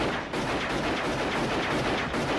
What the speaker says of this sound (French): Il y a un cut sur le tir de Jules.